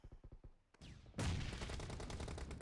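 Gunfire in the mobile battle royale game PUBG Mobile: a few quick quiet shots, then a sudden loud burst of continuous rapid automatic fire that fills the rest of the moment.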